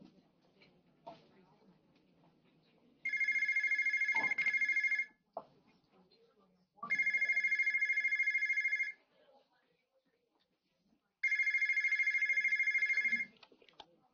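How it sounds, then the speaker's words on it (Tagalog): A telephone rings with an incoming call in three separate bursts of steady electronic trilling, each about two seconds long with pauses between, loud and close over a quiet room with faint low voices. "Tumatawag na asawa mo."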